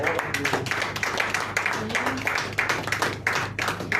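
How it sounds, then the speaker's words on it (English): Audience clapping at a conference welcome, with dense, steady hand claps sustained throughout, fairly close and full, a round of applause following a keynote introduction. "give a round of applause for"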